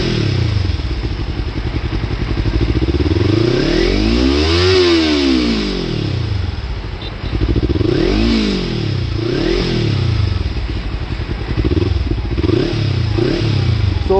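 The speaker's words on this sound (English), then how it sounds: "the biggest mod was my slip-on exhaust, and I'll just show you how it sounds" A Kawasaki Ninja 300 motorcycle with a slip-on exhaust revs hard again and again, rising and falling in deep, throaty roars with a rumbling exhaust note, loud and close.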